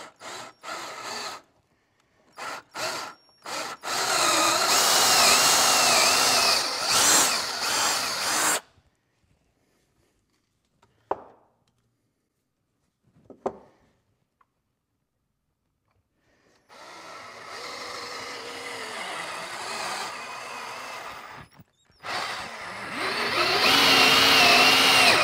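A power drill bores into a wooden 4x4 for a carpenter bee trap, with a few short trigger blips, then long whining drilling bursts separated by a quiet pause.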